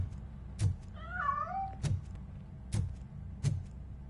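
A cat in the video game Robocop Rogue City gives one wavering meow amid heavy rhythmic footstep thuds, the cry moderately loud and brief.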